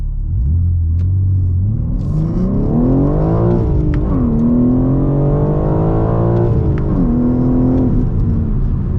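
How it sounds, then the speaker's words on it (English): A manual BMW M3 with a turbocharged engine accelerating hard, its engine tone climbing steadily through the revs, dipping briefly at a gear change and then rising again, loud and close from inside the car with no speech. "the turbos lag quite far behind the acceleration"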